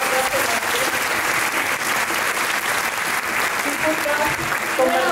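A hall audience at a Tuna Femenina performance at the Ateneo Mercantil de Valencia claps loudly and continuously, a thick wash of hands with faint voices underneath.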